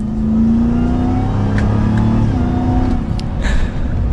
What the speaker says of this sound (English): Now we'll do one slight acceleration here to finish it up.